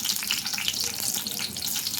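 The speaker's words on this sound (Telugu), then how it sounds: "ఇప్పుడు పచ్చిమిర్చి వేసుకున్నా." Green chilies fry in hot oil for Mysore bonda, a dense, continuous sizzle and crackle close by with no speech.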